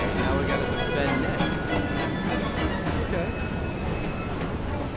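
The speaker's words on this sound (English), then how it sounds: "Just pull up the train right beside me, come on." A train running alongside in the video game Assassin's Creed Syndicate: a continuous loud, close rumble of rolling wheels and rattling carriages, steady throughout, with some faint talk mixed in.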